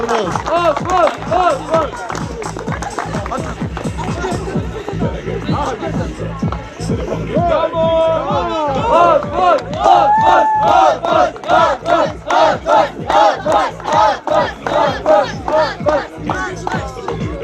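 Crowd at a women's volleyball national cup award ceremony cheers and claps for the silver medal team, a dense, loud sustained roar with rhythmic clapping throughout and rising shouts partway through.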